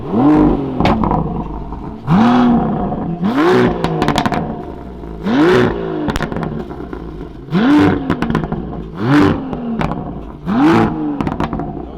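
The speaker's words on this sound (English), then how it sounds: "Let's rev it a few times to see what it sounds like." A powerful Aston Martin V12 Speedster engine revs repeatedly in Sport Plus mode, about seven sharp blips rising and falling in a steady rhythm, loud and close.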